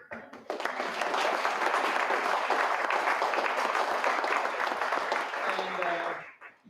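Audience members at a community forum in Fort Jones, California applaud, the clapping swelling in quickly, holding steady and dense for several seconds, then fading out at the end.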